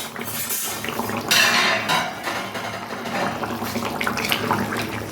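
A lid comes off a pot of cooking kohlrabi with a close metallic clatter, followed by bubbling, wet simmering noises and faint clinks of kitchenware, and no voice is heard.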